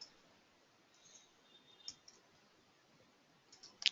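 Faint computer mouse clicks, a few sparse, quiet ticks spread over near silence with a sharper click near the end.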